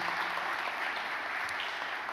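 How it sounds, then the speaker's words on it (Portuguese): Audience applause at a church forum on whether a new Reformation is needed, a steady, fairly faint wash of many hands clapping at a distance, unbroken for the whole stretch with no voices over it. "Uma linda salva de palmas também para Jesus, pela vida do servo de Deus."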